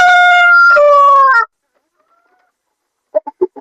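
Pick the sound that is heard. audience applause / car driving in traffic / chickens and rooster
chickens and rooster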